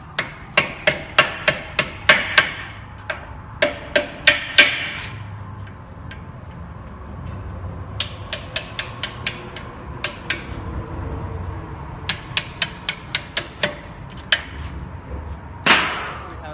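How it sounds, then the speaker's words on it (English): Brake pad pins being tapped out of a caliper on a 2010 Range Rover Supercharged, sharp metallic hammer strikes in quick rhythmic runs separated by short pauses, close and clear with no talk. "we are going to remove the brake pad pins"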